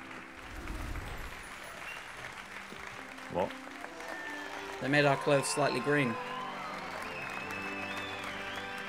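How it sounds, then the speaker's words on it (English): A crowd cheers and claps in the Hogwarts Legacy video game, a busy roar with a louder burst of applause near the middle, while people talk over it. "Why are they cheering for us?"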